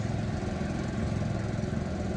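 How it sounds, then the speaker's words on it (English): A lawn mower runs nearby in an outdoor parking area, its engine a steady, unbroken drone at moderate loudness with no talking. "there's a person mowing here, then a person mowing over there"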